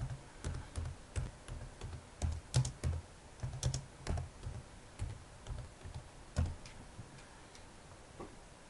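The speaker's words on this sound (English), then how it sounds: "Let me type that in." Keys clatter on a computer keyboard as a search phrase is typed, an irregular run of light taps and clicks in small bursts, close and clear with no voice.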